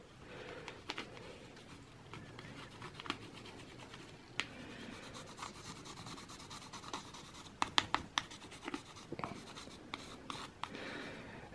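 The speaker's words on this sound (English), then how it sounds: "you got to take a credit, like a debit card, like this, and just remove it and come right out really easy" A plastic debit card scrapes old thermal compound off a CPU in an HP Pro 3405 desktop, giving close, steady rough scratching and rubbing strokes with a few sharper clicks and ticks, no talking.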